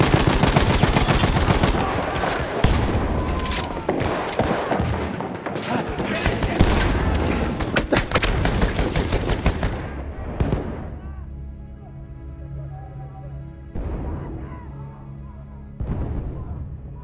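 Loud, dense gunfire and heavy artillery blasts from the Battlefield 1 video game battlefield, rapid bursts crowding together for about ten seconds before easing into a lower rumble with a few scattered later shots, with faint voices underneath.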